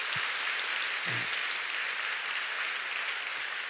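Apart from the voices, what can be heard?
church congregation applauding the choir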